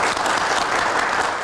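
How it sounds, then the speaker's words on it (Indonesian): Steady, dense studio audience applause fills the whole short stretch, loud and continuous with no voices over it. "Kita berikan tepuk tangan."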